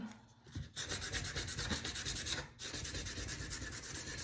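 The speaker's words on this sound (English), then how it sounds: "just keep sanding until you're happy with the level" Scrap sandpaper rubs back and forth over a flat piece in quick, rhythmic close strokes, a dry gritty scratching with a short pause partway through.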